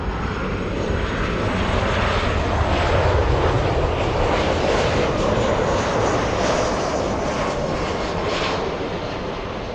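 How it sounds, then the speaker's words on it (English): An Airbus A350-900 jet takes off from LAX with a loud, continuous broadband engine roar that holds steady throughout and eases slightly toward the end, with no voices. "That is an A350-900 flying back to Paris."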